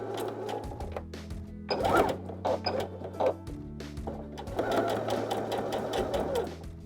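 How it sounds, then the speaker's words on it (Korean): Home sewing machine stitching a seam, starting with a backstitch, while replacing an old shirt collar, a steady mechanical whirring and clatter in bursts, with brief pauses and restarts, close and fairly loud. "이렇게 준비해 놓은 상태에서 재봉틀로 봉제를 시작할게요."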